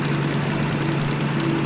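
Diesel-hydraulic DH3 locomotive engine in the Derail Valley train simulator, running as a steady, loud, low rumble with a constant tonal hum held throughout, no talk over it.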